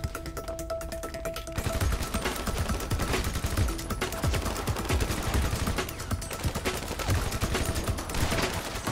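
Rapid bursts of gunfire from a GTA 5 Online match, dense and continuous with overlapping shots and impacts, loud and close throughout after a brief quieter opening.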